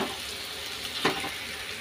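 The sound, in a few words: mashed boiled potato added to frying paneer spice paste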